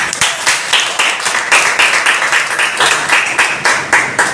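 An audience at an investment company gathering claps loudly in a steady, rhythmic beat, with dense hand claps repeating evenly for several seconds and no talk on top.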